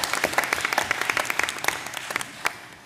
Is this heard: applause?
yes